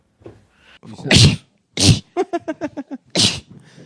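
A loud sneeze with a sharp burst, followed by a rapid series of short rhythmic puffs and another forceful sneeze.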